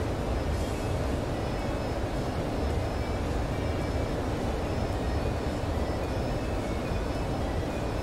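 F-14 Tomcat jet engine held at military power without afterburner, cruising near 25,000 feet in Microsoft Flight Simulator; a steady, loud broadband roar runs unbroken throughout, with no voices.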